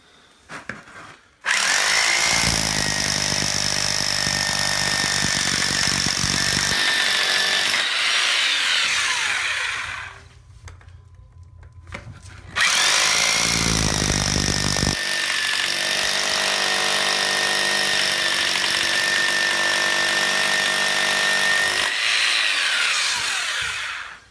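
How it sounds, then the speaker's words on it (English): Loud power drill boring weep holes into a cinder block foundation wall in two long bursts, with a short pause between them; the motor whines steadily over grinding masonry noise. "we're going to drill weep holes and see if there's any water that comes out"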